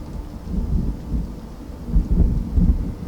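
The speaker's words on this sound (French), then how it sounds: "La pluie s'éloigne au loin." Steady rain with low rumbling thunder rolling beneath it, continuous and moderately loud, no voices.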